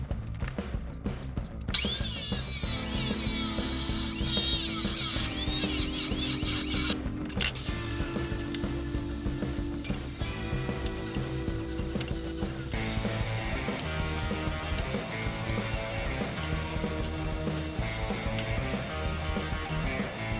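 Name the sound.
cutting 2x2 quarter wall steel tubing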